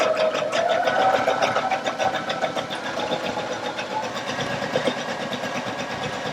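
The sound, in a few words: Baby Lock Allegro sewing machine stitching decorative heart stitches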